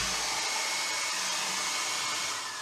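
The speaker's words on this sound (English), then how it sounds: "that hot air from the hairdryer has definitely created a skin there already" A hair dryer blows hot air over freshly poured acrylic paint, a constant close whooshing fan roar that holds steady for a few seconds with no voices.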